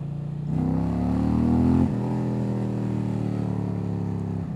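A 2025 Indian Roadmaster 112 motorcycle pulling hard in second gear, engine note rising in pitch as it revs, then a brief dip at a shift before a steady strong drone, heard close.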